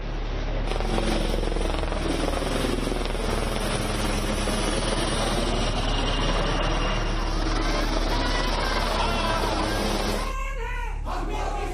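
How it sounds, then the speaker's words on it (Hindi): An army helicopter flies overhead while showering flower petals, a loud, steady rotor and engine roar filling the whole stretch, blended with crowd cheering and shouting, then cutting off abruptly near the end. "हेलीकॉप्टर से सेना ने बरसाए फूल।"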